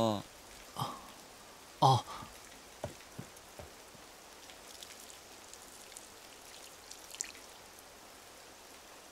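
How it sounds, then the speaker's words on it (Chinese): Soft, steady rainfall patters on surfaces throughout, quiet and fairly distant, with a few sharper knocks and a short spoken exclamation early on. "下雨了"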